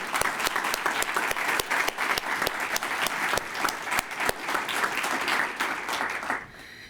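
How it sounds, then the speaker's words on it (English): Audience applause at a mayoral election forum in Saskatoon, a dense, steady wash of many hands clapping for several seconds, fairly close and full, then dropping away sharply at the end. "I really would just like to show a round of applause for all the people running for election"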